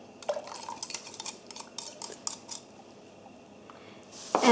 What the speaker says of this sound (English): we're just going to mix the egg replacer into our milk